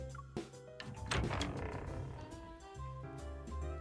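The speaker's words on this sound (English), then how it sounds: "she shrugs and opens a door" A door opens in the video game Love and Deepspace with a soft thunk, then a low rumbling slide. Faint ambient tones sit beneath it, with no talking.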